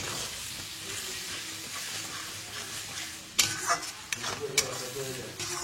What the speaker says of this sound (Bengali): 1 চামচ মতন ধনে গুঁড়ো দিয়ে আবার আমি মশলাটাকে ভালো করে কষাবো